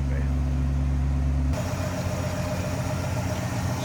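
The Ford V8 in a 1964 Mercury Comet Caliente convertible idles with a steady low rumble that shifts to a rougher, busier tone partway through, continuous and close.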